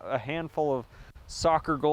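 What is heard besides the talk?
No everyday noises stand out.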